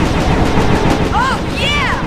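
Gunfire aimed at a boss in the Sly 2 video game, steady loud shots blending with whooshing electronic effects and rising tonal sweeps near the end.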